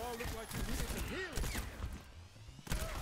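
Automated turret gunfire in the Overwatch shooter, rattling bursts mixed with busy game effects and a voice speaking over the action.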